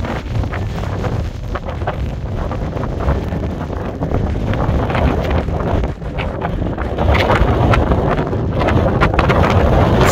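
Strong wind buffets the microphone on the exposed summit of Conival in the Scottish Highlands, a loud continuous rumbling roar with gusts that swell and build toward the end, with no voices.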